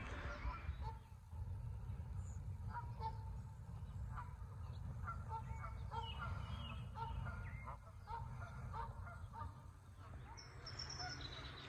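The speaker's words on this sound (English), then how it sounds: "Here are the geese everywhere." Geese honk repeatedly in the distance near a flower shop, their calls scattered over a steady low rumble of outdoor background noise.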